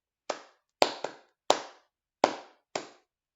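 Six sharp hand claps in an irregular rhythm for a children's counting game, crisp and close with silence between them and no talk.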